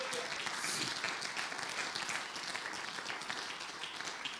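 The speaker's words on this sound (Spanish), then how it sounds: "Fuertes palmas al Señor, hermanos." A church congregation claps for the Lord in sustained applause, dense and continuous, a little distant, with no talk over it.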